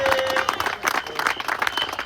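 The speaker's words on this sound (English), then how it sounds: "Let's give Mr. Brad Franklin a big round of applause" Crowd applause at an outdoor march in Jackson, Mississippi, a dense, fairly loud wash of clapping that lasts about two seconds.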